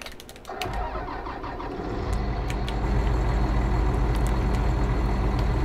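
A vehicle engine in the Farming Simulator 19 video game cranks briefly and catches, then settles into a steady, rising idle rumble, close and loud with no talk.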